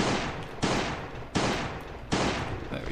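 Heavy gunfire from a weapon in a bunker-raiding video game: three sharp shots roughly three quarters of a second apart, each trailing into a long rumbling echo, loud and close with no talk.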